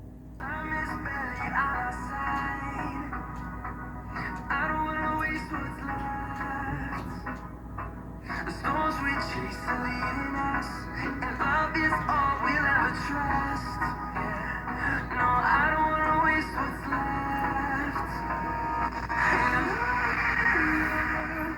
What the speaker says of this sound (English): that's the sound of the speaker